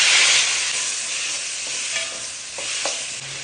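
Onions, tomatoes, garlic and vadagam sauté in a pan with a dense, steady sizzle and a bright hiss, plus a couple of light stirring clicks, and no one speaks.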